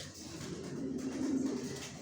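Soft, low cooing of pigeons in a loft, a steady murmuring drone with a warm throaty tone, close by and uninterrupted.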